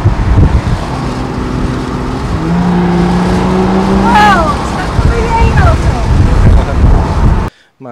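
A car accelerates hard as the driver shifts with paddle shifters, a loud close engine roar with rising tones that drop and climb again at each shift, mixed with wind rush before cutting off abruptly.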